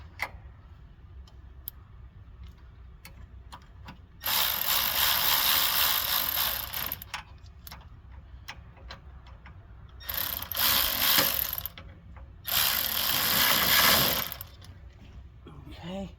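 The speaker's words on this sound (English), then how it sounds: "what I do is basically I tighten up this side a little bit back and forth till it basically goes up in" A 9/16 wrench tightens a bolt on a Craftsman tractor hydro-gear transmission, giving three bursts of rapid ratcheting clicks with faint ticks and quiet handling sounds between.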